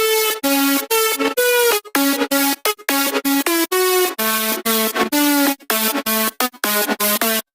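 A bright, buzzy electronic synth lead plays a choppy melodic phrase of short stabbed notes, loud and upfront with brief gaps between them.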